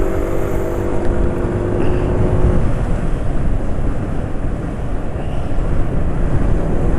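A motorcycle engine idles steadily at medium RPM on Petronas Urania 3000 15W40 oil, a smooth continuous low rumble close to the microphone, with some wind noise over it and no talking.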